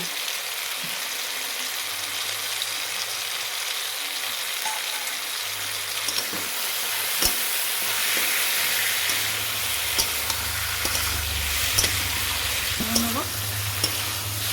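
Ground mustard and poppy seed paste fries noisily in a pan for a vegetarian shukto, a constant loud sizzle broken by scraping stirs and a few sharp clicks, close by and alone without talk.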